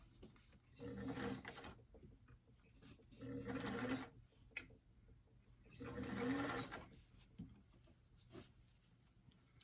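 Sewing machine stitching a doll top, three short bursts of fast whirring with quiet pauses between them, fairly faint and close, with a few soft handling clicks.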